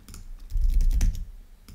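Rapid clicking keystrokes on a computer keyboard at a desk, a close, busy burst of typing that grows denser in the middle and then eases off, with no voices.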